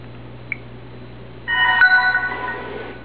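A Samsung Galaxy Proclaim/Illusion phone powering off gives a brief chime-like tone, then a steadier electronic tonal jingle with a click, over a low steady hum and no talk.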